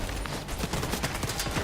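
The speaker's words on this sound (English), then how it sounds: "all the gunshots whirring by and like the screaming of the enemies" Rapid gunfire crackles in a fight in Tom Clancy's The Division 2, with dense overlapping shots and bursts at a steady, moderate level and no speech.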